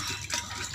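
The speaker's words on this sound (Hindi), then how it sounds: "अब डालेंगे इसमें पानी" Water poured into milk in a pot for a village-style raw lassi, giving a short, steady close splashing pour with no speech.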